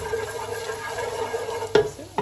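Potatoes with turmeric and chili flakes get stirred in a pan, a soft continuous scraping and light sizzle ending in two sharper clinks of the spoon against the pan near the end.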